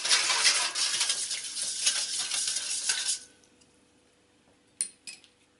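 A spoon stirs salted water into flour for puff pastry dough, a busy scraping and clinking against a bowl for about three seconds, then near silence broken by a couple of brief knocks.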